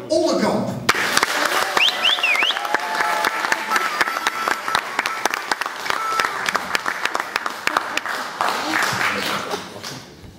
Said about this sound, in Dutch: Vraag ik uw applaus voor de SOPN Johan Onderkamp.